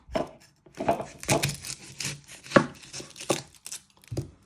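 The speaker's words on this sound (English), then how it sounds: "You first want to chop your ends off." Knife chopping through the ends of a red onion on a board, a series of close, crisp irregular cuts with short pauses between strokes; no talking.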